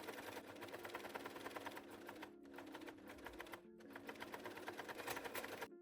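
A sewing machine runs steadily while stitching around the edges of two fabric strap pieces, a quiet continuous mechanical whir with rapid needle ticking and brief slowdowns, no talking.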